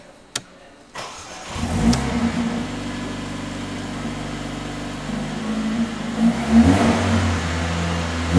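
A Mercedes A45 AMG starts with a sharp click and a catch, then settles into a loud, steady idle close by, lifting into brief revs toward the end with a few pops.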